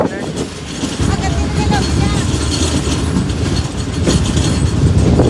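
The 7 Up Tezgam Express rumbles into Chichawatni railway station loudly and steadily, with rattling wheels and clanking cars throughout, as a large train approaching close by.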